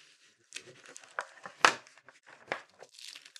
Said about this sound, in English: So I'm going to take the tape off this side now.